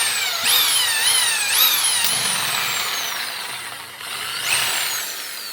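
A power drill bores through metal while fixing a sticking wheel on a Honda Monkey 125cc, whining in a rising and falling pitch over several short bursts, close and fairly loud, then slowing and fading.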